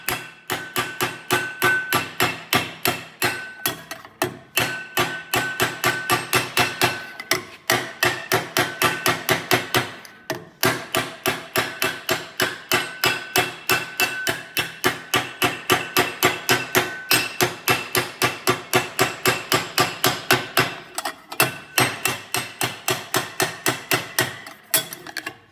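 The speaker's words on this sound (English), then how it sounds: "Doing some tuck shrinking." A hammer strikes sheet metal over a pipe for tuck shrinking, delivering rapid, evenly spaced ringing blows in long runs with short pauses between them, loud and close.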